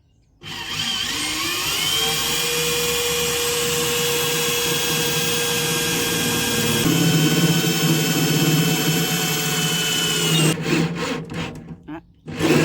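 A power drill runs steadily, drilling upward through wood during home DIY work, its motor whine holding a sustained pitch before shifting under load, then stopping with a few brief knocks at the end; voices speak faintly underneath.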